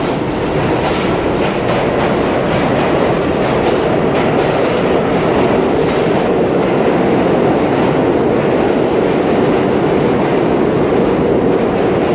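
A loud, steady rumble of a New York City Budd R-32 subway train running, with rattling wheels and brief high squeals near the start.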